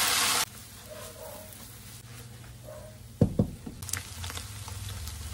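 Pork intestines frying in their own fat in a pan, a faint steady sizzle with a few sharp knocks of a utensil partway through, close and without talk.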